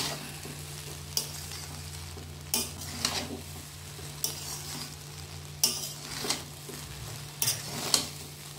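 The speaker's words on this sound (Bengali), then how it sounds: "দিয়ে আমি এটাকে ভালো করে নেড়ে নেব" Fried vegetables being stirred into pulao-style veg fried rice in a pan, a soft low sizzle broken by periodic scraping strokes and spoon knocks against the metal, close and unhurried.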